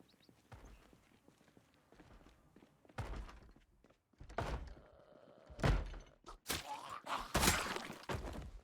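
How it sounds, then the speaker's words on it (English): A video game character pounds on a door: irregular, heavy thuds in bursts, growing louder and more frequent toward the end, with faint background sounds between the knocks. "I don't know why she was banging on that door"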